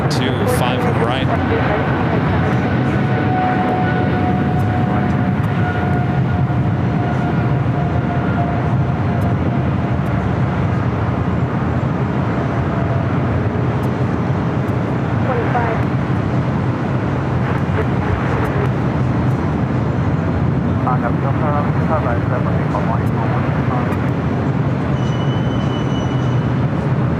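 An airliner bound for London Heathrow taxis toward runway 5 right at LAX, its continuous jet engine rumble steady and fairly loud, with faint whining tones and brief light clatter near the end.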